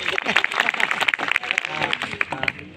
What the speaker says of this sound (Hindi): वाह वाह, जोरदार तालियां इनके लिए।